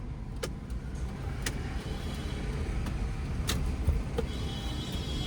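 A car's engine runs steadily at low revs while it creeps slowly through a left turn on narrow lanes, a constant close hum with a few faint clicks.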